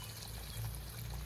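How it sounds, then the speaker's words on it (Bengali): Hot water poured into a pot of mutton curry, a brief, close, steady pouring splash with no voices. "তারপরে ঝোলের গরম জল দিব"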